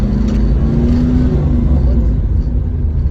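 A manual transmission car in second gear with a learner driving gives a steady, loud low engine drone and rumble heard from inside the cabin, even and unbroken throughout.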